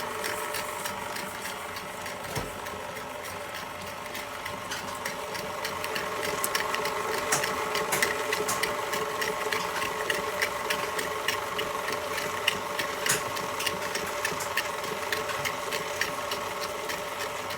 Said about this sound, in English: I'm gonna let that mix till it's nice and fluffy, light and fluffy